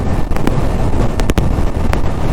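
Strong wind buffets the microphone in loud, rough gusts, with a few sharp thumps breaking through the roar.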